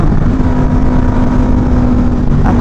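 A loud, steady Yamaha MT-07 motorcycle engine drone with a strong low hum, held at high revs for a couple of seconds, close by, with no talking.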